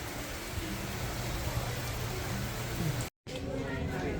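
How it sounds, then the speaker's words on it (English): Heavy rain pours steadily in Orlando during a flash-flood downpour, a dense loud hiss of drops on surfaces with faint murmuring voices beneath, cut by a brief gap near the end. "Very rainy, raining."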